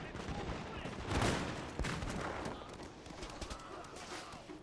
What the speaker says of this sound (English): they're shooting back at him now